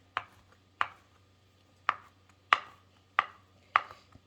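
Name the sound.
chopping food for vegan tacos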